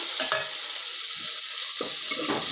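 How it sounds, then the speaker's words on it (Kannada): Onions and chopped tomatoes fry in oil with a constant close sizzle, broken by a few soft scraping stirs, and no one speaks. "ಟೊಮೊಟೊನು ಸ್ವಲ್ಪ ಚೆನ್ನಾಗಿ ಬೇಯಲಿ ಎಣ್ಣೆಲಿ"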